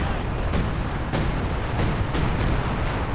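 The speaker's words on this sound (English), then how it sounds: "Precision barrage called in" A Company of Heroes 2 precision artillery barrage rumbles as dense, continuous booming, with several sharper impacts landing within a few seconds, loud and close.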